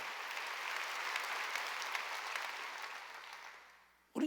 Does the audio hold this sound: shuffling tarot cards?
no